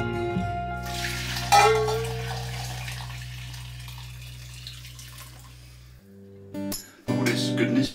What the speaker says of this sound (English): strain the stock out of this pan